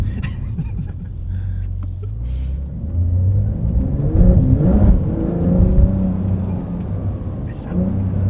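A deep engine rumble swells as a 2025 Porsche 911 Carrera S (992.2) revs up and settles, heard from inside with people talking over it.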